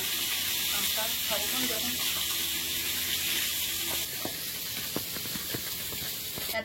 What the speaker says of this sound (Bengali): এতক্ষণে মাছগুলো সব ভাজা কমপ্লিট করলাম